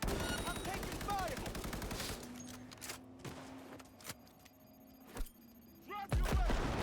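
Bursts of gunfire in the video game Cyberpunk 2077, dense and rapid at first, then thinning into scattered sharp shots over a quieter background.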